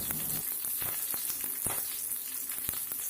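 Dried red chilli pieces crackle and sizzle steadily in hot oil, with curry leaves already in the pan, for a plantain stem pachadi tempering; a dense, continuous frying hiss with sharp pops scattered throughout, close and fairly loud.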